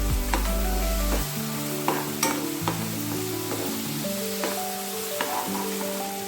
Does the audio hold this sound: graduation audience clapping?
no